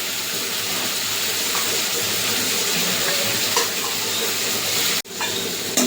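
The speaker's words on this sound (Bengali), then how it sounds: "চিংড়ি মাছ বেশি ভাজবো না, বেশি ভাজিয়ে রাবারের মতন হয়ে যাবে।" Prawns frying in oil in a pan, a loud, dense, continuous sizzle that drops out briefly near the end and resumes, with no talk.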